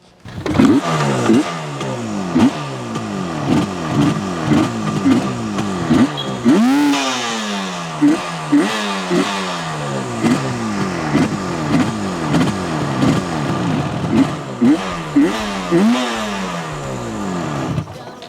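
A 50-year-old Yamaha RD350 two-stroke motorcycle starts up and revs repeatedly, loud and close, with rhythmic rising throttle blips over a rough idle throughout.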